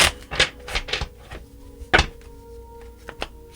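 Several quick papery riffles and soft taps of tarot cards being shuffled, in short bursts with brief pauses, close by and fairly quiet.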